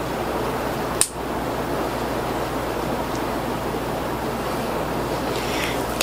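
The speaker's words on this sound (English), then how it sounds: "I can hear the rain." Heavy rain pours outside as a constant, dense hiss with no break, broken once by a brief sharp click near the start.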